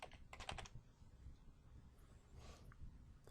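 Soft clicks of typing on a computer keyboard come in a short flurry and then again in a faint later burst, quiet against a low room hiss.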